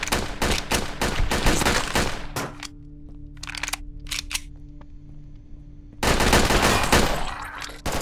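Squad gunfire in the video game Red Alliance: dense bursts of rapid automatic shots, a quieter stretch with a few isolated cracks and a low hum, then another loud sustained volley, close and harsh.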